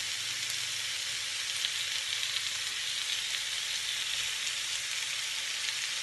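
Garlic, mushrooms and bell peppers for an omelette frying in a pan, giving a steady, even sizzle that is close and continuous throughout.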